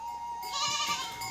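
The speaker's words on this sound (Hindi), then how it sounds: "और बकरियाँ हैं हमारे पास लगभग 35 से 40 अभी।" A goat on a hillside farm in a herd of about 35 to 40 gives a single drawn-out bleat that rises and wavers, fairly close and clear over quiet ambience.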